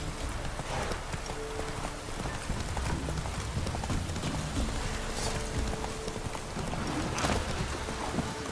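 Horse hooves clop in a steady galloping rhythm in The Witcher 3, moderately loud and continuous, with ambient game sound underneath.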